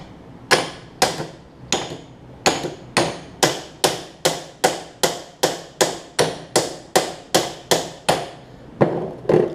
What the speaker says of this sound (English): I'm just gently tapping it out